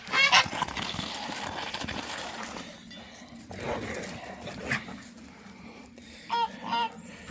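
Geese honk in several short bursts near a farmyard, loud at the start and again toward the end, with a dog-like call and a person's voice mixed in between.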